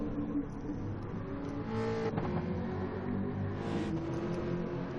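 A GT3 race car in a racing game drives into the pits, its engine a steady mid-level drone with a couple of brief revs rising and falling, no voices over it.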